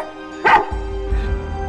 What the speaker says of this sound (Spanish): Venga, ladra un poquito o algo